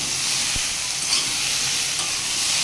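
Vegetables being stirred and sautéed in a pan for a vegetarian mixed-vegetable dish, a steady broadband sizzle with a soft scrape near the start, close and continuous, no voices.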